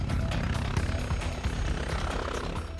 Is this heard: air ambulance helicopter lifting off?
yes